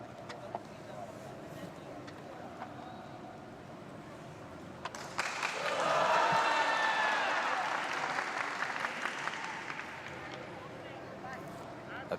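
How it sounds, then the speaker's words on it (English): A crowd at a Tokyo 2020 Paralympic Games boccia final breaks into applause and cheering that swells to a peak midway and then settles into steady clapping, while a commentator talks throughout. "as he's cheered on by a few Australians within the crowd"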